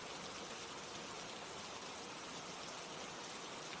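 Steady, even rain hiss fills the whole stretch, a soft constant wash with no distinct drops or thunder, fairly quiet and with nobody talking.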